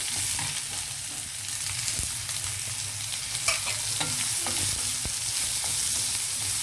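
Onions frying in a pan with cumin, mustard seeds and dried chilies give a steady, close sizzle, with scattered crackles and occasional stirring scrapes throughout.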